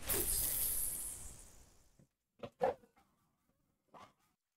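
A few short, muffled dog barks come after a fading burst of loud noise, then isolated yaps with quiet gaps between them, heard fairly faintly during a livestream.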